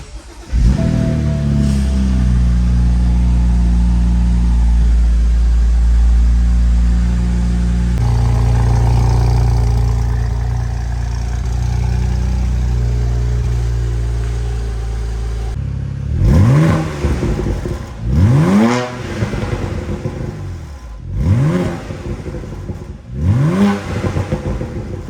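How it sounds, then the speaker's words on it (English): A BMW Z4 sDrive35is with M package idles with a steady low hum, then is revved several times in a row, each rev rising sharply and falling back, close and loud. "The car does run and start."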